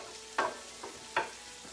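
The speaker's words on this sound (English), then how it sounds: "that's frying up nicely" Parsnip and carrot frying in a pan for soup give a steady soft sizzle, with three brief scraping stirs of a spoon, alone and close.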